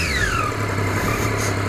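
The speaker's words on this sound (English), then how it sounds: "Let's do a couple revs." A 2013 Triumph Daytona 675R motorcycle engine idles steadily, then the revs rise and fall with a whining pitch sweep. The sound is close and continuous.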